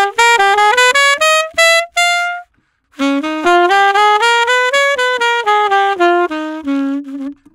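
Jazz fusion keyboard line climbing step by step up a Lydian dominant scale, a bright run of close, evenly spaced notes played alone, with one short pause before the ascent carries on.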